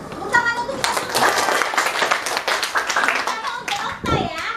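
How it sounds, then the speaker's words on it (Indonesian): A group in a family-communication session claps hands together, dense and sustained, with children's voices and talk mixed in throughout. "Tepuk tangan untuk kita semua"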